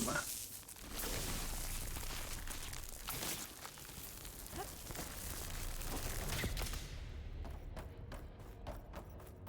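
Explosions and blasting bursts in the video game Horizon Forbidden West come as repeated thuds and rumbling booms, followed near the end by a run of sharp, rapid impacts, all fairly quiet overall.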